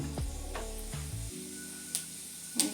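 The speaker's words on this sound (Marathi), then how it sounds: "जिरं मोहरी तडतडली आपली" Cumin and mustard seeds spluttering and popping in hot oil over a steady sizzle, with a few sharp crackles toward the end.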